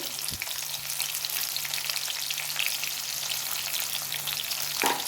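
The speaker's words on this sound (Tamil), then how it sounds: "நல்லா வதங்கிடும் வெங்காயம் நல்லா வதங்கிடுச்சு" Small shallots and garlic cloves sauté in hot oil in a pan for a dry fish curry, crackling in a loud, steady sizzle with a brief clatter of stirring at the start and again near the end.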